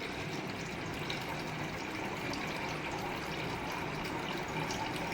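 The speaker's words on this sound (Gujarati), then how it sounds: "ધીમે ધીમે ધીમે આ રીતે બધું પાણી નિતારી લેવાનું છે" Water is drained off washed sago pearls, a soft steady trickling and pouring wash that runs evenly and faintly throughout.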